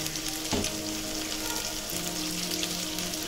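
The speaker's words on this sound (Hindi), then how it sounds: "अच्छे से भूनेंगे इसको।" Sevai vermicelli roasts with spices in a hot pan, giving a steady, close sizzle with a short scrape of stirring early on.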